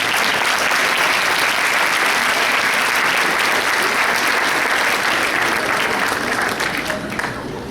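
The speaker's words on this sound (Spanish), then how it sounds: "Un aplauso para él, por favor." An audience at a university lecture breaks into sustained applause welcoming the speaker, many hands clapping in a thick, even roar that stays loud and begins to thin near the end.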